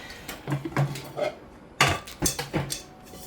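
A cooking pan is pulled out and handled in a home kitchen while making pepper steak, giving a series of close, sharp metallic clanks and knocks with short quiet gaps between them.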